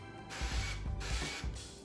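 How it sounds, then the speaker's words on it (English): An olive oil spray bottle hisses in short bursts over flour-coated chicken, three or four quiet spritzes separated by small pauses, close and soft. "take your olive oil spray again and gently spray the top of it"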